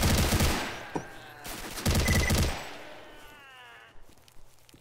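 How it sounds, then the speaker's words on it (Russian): Automatic gunfire aimed at the player in the video game S.T.A.L.K.E.R., two loud rapid bursts close by, each followed by echoing tails and fainter scattered shots. "С какой-то бандуры по мне стреляли, по-моему."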